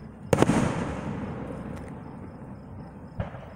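Fireworks going off on a July 3rd night: a sharp near burst with crackling, a rumbling fade, then another distinct boom about three seconds later.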